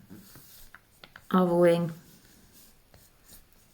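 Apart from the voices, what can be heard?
drawing with a permanent pen on plastic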